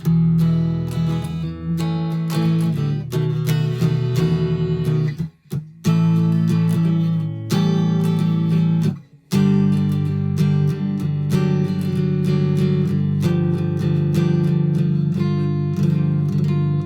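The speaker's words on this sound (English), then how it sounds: "And I'll just play a couple of chords." Chords strummed on a heavy Japanese electric guitar with poor pickups, several ringing strums with two brief pauses between them, loud and close with no talking.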